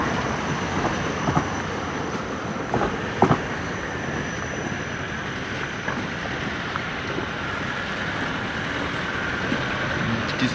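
A Kolomna tram rolls past on a city street after track repairs, a steady broadband rumble of wheels and rails with a few sharp clanks, moderately close and continuous, with no voices.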